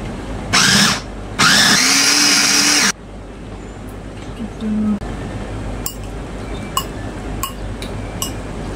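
An electric food chopper chopping tomato whirs loudly in two short bursts, then stops; afterward faint clinks and background noise follow, with a voice briefly present.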